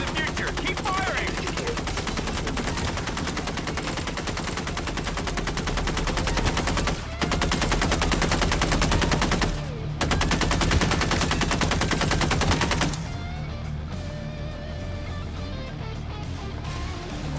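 Sustained loud gunfire from the video game MindsEye rattles on continuously in rapid bursts, with game sound layered underneath throughout.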